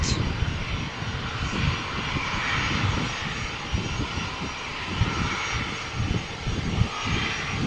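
An airliner accelerates down runway 13 at Malaga Airport on a stormy morning, its engines roaring loud and continuous while the cabin rumbles and shakes.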